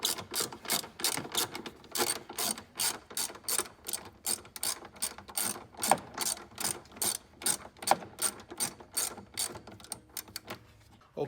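A ratchet wrench loosens 8mm bolts on a Ford Escape battery tray, producing a long run of rapid, evenly spaced metallic clicks at close range, with brief pauses between strokes.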